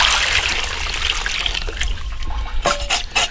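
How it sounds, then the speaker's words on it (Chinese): Hot water poured into a pot to wash pork before stewing it with carp, a steady close trickle and splash running throughout, with a few brief clatters near the end. "加热水"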